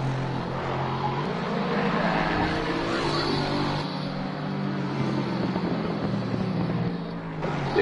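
A racing car in a sim racing game, a Lexus among the leaders, drones steadily at close range with a sustained engine roar that shifts slightly in pitch as it enters the pit lane, no one talking over it.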